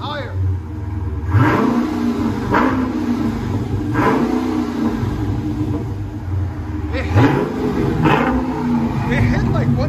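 A 2020 Dodge Charger Scat Pack with a 6.4L HEMI V8, dual exhaust and Carven R-Series mufflers revs repeatedly, its loud throaty bursts rising and falling over a steady idle rumble while people talk nearby.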